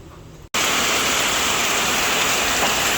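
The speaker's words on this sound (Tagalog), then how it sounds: "Simula po kaninang umaga ay wala na pong tigil ang ulan." After a brief quiet start and a short cut, steady heavy rain hisses loudly and evenly, close and unbroken for the rest.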